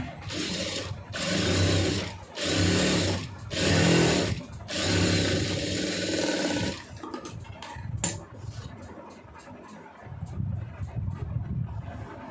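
A sewing machine stitches a garment band in several loud motor bursts separated by short pauses, then slows into lighter, sparser clicking and a softer run at the end.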